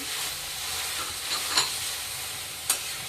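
Cabbage sizzles steadily while being stir-fried for veg hakka noodles, with a couple of sharp utensil clicks against the pan, close and even, no voices.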